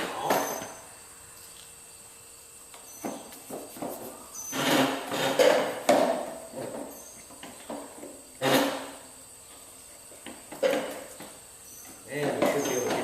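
Tools working on a KLR motorcycle to remove its subframe during airbox removal: a series of loud metallic knocks and clanks come in separate bursts, scattered among quieter handling noises, with no talk over them.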